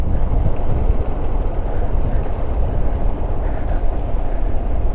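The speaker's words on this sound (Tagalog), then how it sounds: "Bilis sa pagbulusok ng ano, motor ah." Motorcycle rushing downhill on a new mountain road between Baler and San Luis, Aurora, near the Pacific coast, heard as a loud, steady roar of engine and heavy wind buffeting the microphone throughout, with no pauses.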